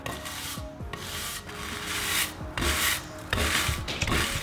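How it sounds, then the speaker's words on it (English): Burned wood being brushed to remove char for shou sugi ban, a loud, harsh scrubbing of repeated back-and-forth strokes close by. "So you wanna brush it, scrape it off."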